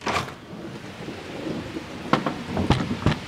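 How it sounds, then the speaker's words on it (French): Rain falls steadily throughout a thunderstorm, with several sharp, close thunder cracks bursting out near the end over the constant hiss of rainfall. "il y a de l'orage juste au même moment où je sors"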